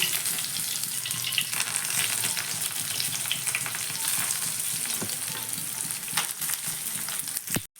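Ash gourd leaves frying in a pan of hot oil, giving a loud, continuous close-up sizzle with crackling pops and occasional stirring clatter, no voices.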